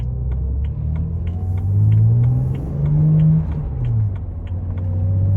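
A 2008 BMW 328i engine drones steadily from inside the car, its pitch rising in a couple of swells as the revs climb and ease off, with no talking.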